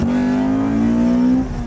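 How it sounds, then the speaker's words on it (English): A Honda VTEC engine revs hard and close, a loud sustained tone that climbs steadily before easing off at the end. "Their high-revving VTEC engines are a favorite for many."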